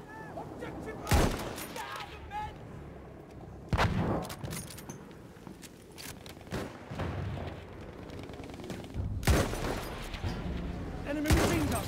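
Machine gun fire rattles through a Battlefield 1 battle in repeated loud bursts at uneven intervals, set against a continuous layer of distant gunfire and battlefield noise, while shouted game voices call out between the shots.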